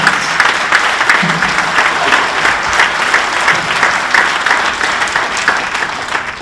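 At the 2025 St. Joseph Area Sports Hall of Fame induction ceremony, an audience claps for Coach Bill Snyder, steady sustained applause from a sizable crowd filling the hall throughout.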